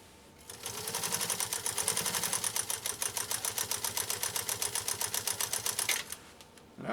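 Pfaff 332 sewing machine stitching through eight layers of U.S. Army grade canvas, a steady rapid mechanical clatter running for about five seconds with a faint pause and restart near the end, heard close and alone.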